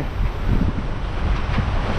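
Wind and ocean swell rushing past a sailboat running downwind with sails wing-on-wing, a continuous loud roar of wind noise and surging water with no voices.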